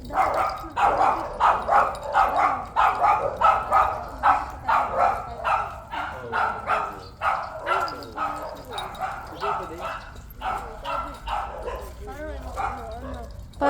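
Many dogs bark in rapid, overlapping yips and bow-wows during a morning walk, a dense, continuous chorus close by with whimpers mixed in.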